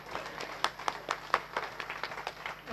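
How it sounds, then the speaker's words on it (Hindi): An indoor audience at a talk on emotional mastery claps in a loose, fairly quiet burst of applause, individual claps standing out in a rhythmic patter over a few seconds. "इन भाइयों के लिए जोरदार तालियां"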